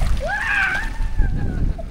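A small boat sits in water in the rain, and water splashes and sloshes close by for about two seconds while a voice speaks over it.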